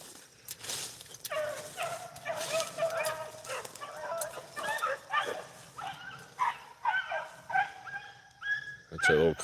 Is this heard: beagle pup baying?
yes